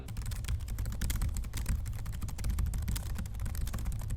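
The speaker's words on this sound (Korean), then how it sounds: "키보드 트랙패드는 합격입니다. 저소음 기반으로 설계되어 조용하고 눌렀을 때 피드백 좋습니다." Rapid, continuous typing on the low-noise keyboard of an ASUS ZenBook 14 UX425 laptop, soft clicky keystrokes heard close up with no voices.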